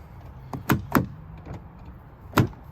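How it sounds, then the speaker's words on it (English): A mechanical key works the door lock of a Volvo car with no battery power, giving a few sharp clicks and clunks, then a final louder latch clack, close and with no talk. "that's how you do get your door unlocked when you don't have battery power"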